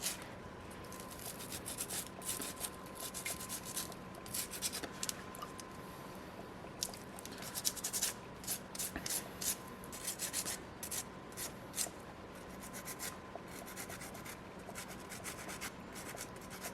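A small soapstone seal figure is hand-carved near the chin and flipper, making a close, continuous scraping and rasping with irregular short strokes, quiet and steady, with no talk.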